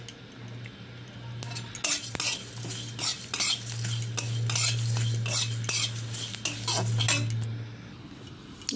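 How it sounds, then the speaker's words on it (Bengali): Cumin, bay leaves and fennel seeds are stirred in a pan, with repeated clicking and scraping of a spoon against the metal over a faint sizzle and a steady low hum. "প্রথমে দিয়ে দিলাম জিরে, আর কটা দিয়ে দেবো তেজপাতা, আর দিয়ে দেবো একটু মৌরি। একটু ভালো করে ভেজে নিই।"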